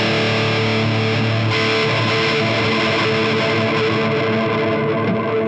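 A heavily distorted electric guitar chord through a ToneX-modelled high-gain amp with 6L6 tubes rings out loud and sustained, thick with saturated crunch and no pauses.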